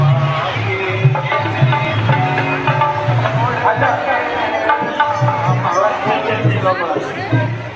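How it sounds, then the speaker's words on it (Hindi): Crowd at a mass wedding of 51 couples in Patna, a dense hubbub of many overlapping voices with steady chatter and occasional louder calls, close and continuous throughout. "काफ़ी भीड़ है, आप सभी देख सकते हैं"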